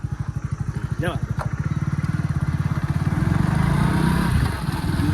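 Motorcycle engine running close by with a steady pulsing putter that swells slightly as the bike rides on, while people talk over it.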